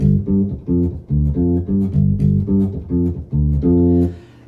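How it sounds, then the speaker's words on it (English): Electric bass run through a 10-band graphic equalizer pedal in a Line 6 HX effects unit, playing a loud, steady pattern of plucked notes ending on a held note, with no voices. "We're going to start by adding the 10-band graphic equalizer."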